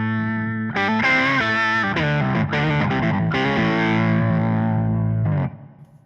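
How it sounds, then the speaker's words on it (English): Electric guitar run through a Sub N Up Mini octaver pedal, producing a beefy, doubled tone with deep sub-octave weight; a loud run of picked notes and chords plays continuously, then a final chord decays and fades. "Now the octaver is a sub and up mini over here."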